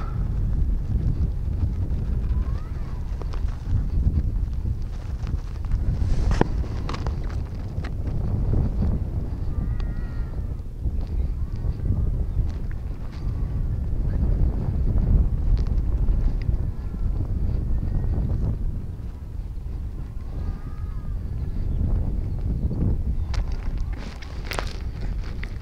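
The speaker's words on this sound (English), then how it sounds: "And the wind is picking up now." Strong wind buffets the microphone at an F5J electric model glider competition field at Brüggen-Schwalmtal, a loud, continuous low rumble with gusts throughout and faint background voices and thumps underneath.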